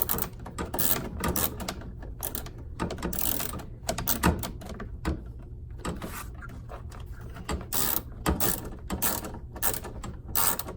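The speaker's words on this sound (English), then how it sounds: "Just make sure it stays lined up as you're screwing in the 1/4" screw." Ratcheting clicks from tightening a 1/4-inch screw on a refrigerator condenser fan motor, Whirlpool W10124096 kit, in irregular bursts of sharp mechanical ticks across the whole stretch, close and fairly quiet with no talking.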